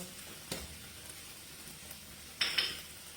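Chopped onion, crushed red chilli and coriander are stirred in a pan, with a soft scrape near the start and a brief pair of metallic clinks later, all faint and close over a quiet room.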